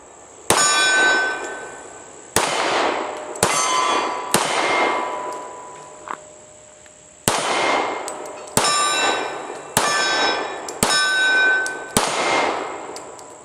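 Nine sharp, loud reports from a Browning Hi-Power pistol chambered in .40 S&W firing powerful hand loads, each shot ringing with a metallic tail before the next at uneven intervals of about a second or two.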